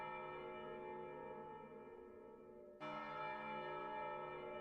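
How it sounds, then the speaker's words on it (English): Church bells in Final Fantasy dungeon video game music ring out with a sustained, layered musical tone, growing brighter and fuller partway through, with no voices present. "Where are you, church bells?"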